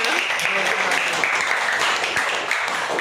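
Loud, dense applause greets a guest on a kids' Kaun Banega Crorepati quiz game, sustained clapping with voices mixed in throughout.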